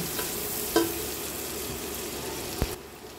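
Chopped onion sizzling in a pan for creamy spaghetti, a steady broad hiss with a couple of brief stirring clacks, close and moderately loud, no voices.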